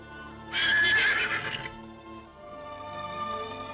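A white stallion gives a loud, shrill whinny over steady galloping hoofbeats and a swelling orchestral backdrop.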